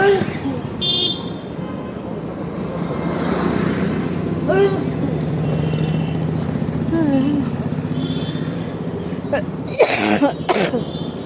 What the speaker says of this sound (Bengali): কি কাশি দেখেছ, বাপরে বাপরে!